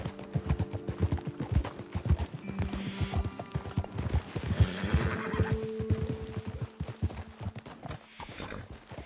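Several horses in the video game Red Dead Redemption clip-clop along at a steady walk, hooves thudding close by, with a loud neigh and whinnying breaking through midway.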